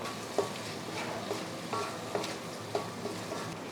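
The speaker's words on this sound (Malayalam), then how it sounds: "ലോ ഫ്ലെയിമിൽ 2 മിനിറ്റ് നേരം ഒന്ന് വഴറ്റാം" Ground chili, turmeric and coriander powder sautéing on low flame in a pan, a soft steady sizzle with a few light spoon scrapes and taps against the metal.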